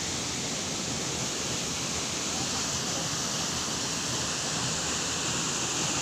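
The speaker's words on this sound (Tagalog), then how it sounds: "Ito po yung Tulbong Falls sa Muliton, Rojas, Zamboanga del Norte." Tulbong Falls in Muliton, Roxas, Zamboanga del Norte pours in a loud, unbroken roar of rushing water, a steady broadband wash that fills the whole stretch without pause.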